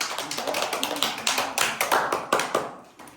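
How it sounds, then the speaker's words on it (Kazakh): Children clap their hands in a quick, slightly uneven rhythm, a steady run of close, bright slaps that trails off toward the end. "Сендер қол шапалақтап қойсаңдаршы"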